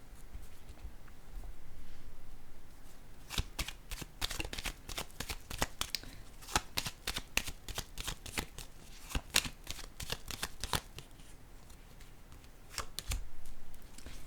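Tarot cards shuffled in rapid riffling bursts and then set down with sharp, close slaps and clicks in an irregular rhythm, heard alone without talk.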